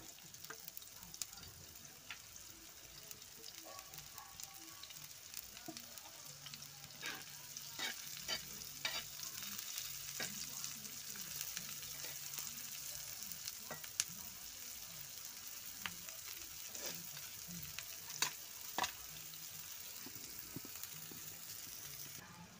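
Onions frying in a pan with cumin seeds, a soft steady sizzle with scattered clicks of stirring, fairly faint and close throughout.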